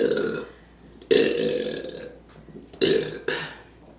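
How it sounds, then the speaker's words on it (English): Several loud, drawn-out burps after drinking beer and Canada Dry ginger ale, three big throaty belches in succession with short pauses, close and alone. "Just like the consistent burping"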